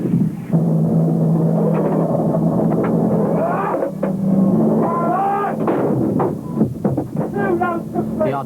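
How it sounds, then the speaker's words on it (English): Abbott self-propelled howitzers fire a Gulf War artillery barrage, a loud, continuous rumbling roar with sharper blasts breaking through and voices talking over parts of it. "barrages from more conventional artillery, the Abbott self-propelled howitzers"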